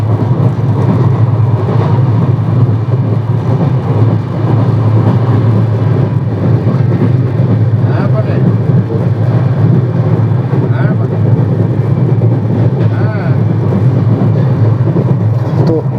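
Steady loud rumble and rattle of a Lal Kuan superfast express train running at speed past Barakar, heard from inside an air-conditioned coach as a continuous dense roar.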